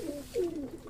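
Pigeons perched overhead near a feeding spot give a couple of soft, low coos, close and moderately loud, with no talking.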